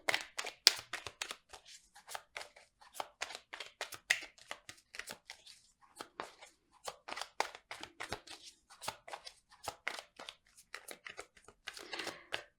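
Tarot cards being shuffled and drawn from the deck, a dense run of quick papery flicks and riffles that come in irregular bursts for the whole stretch, close and fairly quiet, with no talking.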